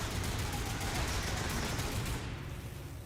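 Dense, rapid automatic gunfire from a weak gun in a video game, a continuous loud rattling burst that tapers off near the end.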